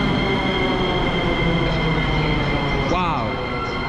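Sofia metro train running, a loud steady rumble with rising wheel squeal near the end, heard from inside the carriage with a voice talking over it.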